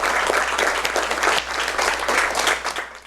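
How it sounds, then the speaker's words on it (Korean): An audience at a book talk concert gives warm, continuous applause to welcome a lecturer, steady clapping from a roomful of people. "우리 이성우 박사님 큰 박수로 모시겠습니다."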